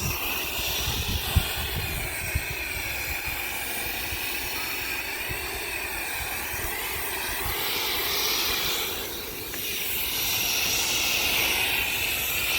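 A tractor engine with a plough attached runs in a steady, rumbling drone for the whole stretch, loud and constant with a slight swell near the end.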